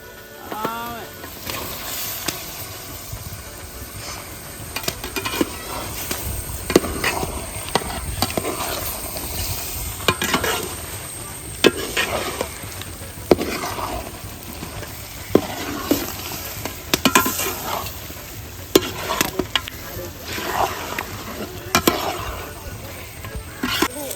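Pieces of duck being stirred into boiling gravy for a Kerala-style duck curry, with scraping spoon strokes and a steady bubbling simmer close by.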